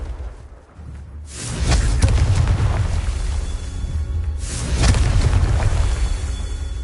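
Loud booming blasts from a spell cast in a Harry Potter parody, two big rumbling bursts a few seconds apart, each swelling and lingering with a roaring tail.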